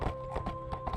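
A farmer's horse clip-clops in the VRChat video game, quick hoof knocks in an even walking rhythm over a steady hum.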